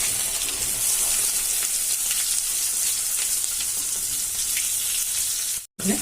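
Sliced okra fries in hot oil with spluttering mustard seeds and curry leaves for a bendekai gojju, a dense, loud, continuous sizzle close by that breaks off briefly near the end.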